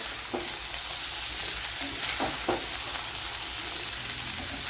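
Fish frying in a pan for fish fry rice crackles with a constant sizzle, while a few light clinks of a spatula stirring break through now and then.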